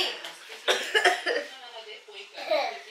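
Several people in a house cough in short, scattered bursts mixed with a voice and some laughter, close and moderately loud.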